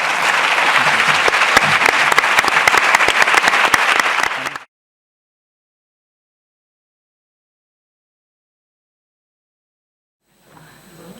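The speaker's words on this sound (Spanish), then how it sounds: "Demanaria un fort aplaudiment pels 4 professionals." An audience at an educators' conference day gives a loud, dense round of applause for four professionals, lasting about four seconds before cutting to silence, with faint room sound returning at the end.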